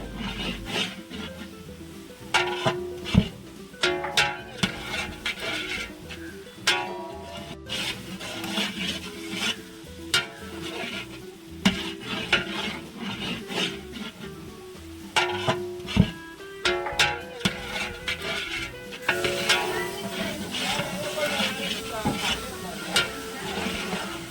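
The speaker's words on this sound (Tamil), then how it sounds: "இஞ்சி பூண்டு நல்லா வதங்கிடுச்சு." Ginger garlic paste sizzles and crackles in a hot pan as it is sautéed for biryani, a continuous frying hiss broken by spoon scrapes and stirring clatter, with occasional talk.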